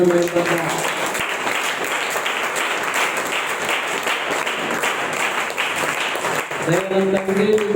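Church congregation clapping during Sunday worship: a long, steady burst of many hands clapping together, close and full, with a voice and sustained tones coming in near the end.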